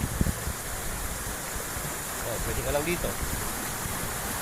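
Spring-fed river water babbles steadily as a continuous broadband rush at a riverside camp near Macagba Falls in Cavinti, with a person speaking briefly over the flow.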